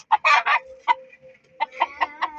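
Chickens clucking close by in short, bright bursts, a quick cluster at the start and a run of rhythmic clucks after a brief pause, with a faint thin tone between.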